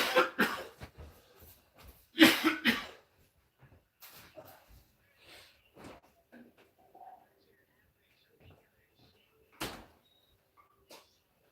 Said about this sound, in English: I was fighting that little choke cough for a couple minutes now